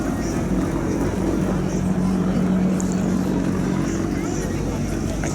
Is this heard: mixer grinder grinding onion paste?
no